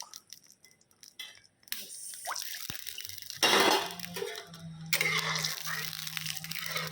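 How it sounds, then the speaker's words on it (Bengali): Water is poured into hot spice tempering in a pan, giving a sudden loud sizzle that keeps bubbling and hissing, with pan and utensil clatter just before it. "জল দেবো ফোড়নটার মধ্যে। জলটা ফুটতে থাকুক।"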